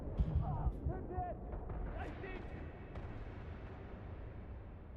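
Gunfire in the space game Starfield, a few sharp shots near the start followed by a steady rumbling din, with someone talking over it.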